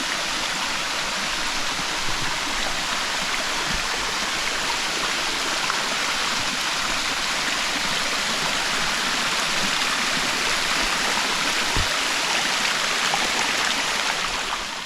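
A steady, broad rush of falling water from the three-tiered Sam Lan waterfall in Thailand fills the scene continuously, loud and even, with no voices.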